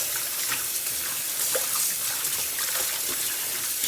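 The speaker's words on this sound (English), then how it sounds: "Just going to rinse it off." Running tap water pours steadily over basil plants being rinsed in a sink, a continuous close hiss and splash with no talking.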